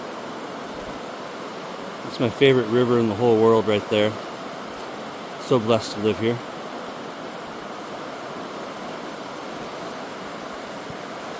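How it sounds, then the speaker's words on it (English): The McKenzie River flows as a steady, broad rush of water that fills the whole scene, with someone briefly speaking over it partway through. "It's my favorite river in the whole world right there."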